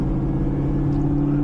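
Steady, loud engine drone from a supercharged LT4 V8 in a Chevrolet Camaro ZL1 fitted with a DSX supercharger lid. The tone holds fairly even for a moment, with no talk over it.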